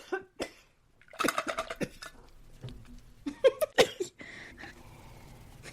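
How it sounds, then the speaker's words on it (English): A person coughs in a fit of irregular, harsh bursts up close, with short gaps and throat-clearing noises between coughs. "Hold on, I'm about to have a coughing fit."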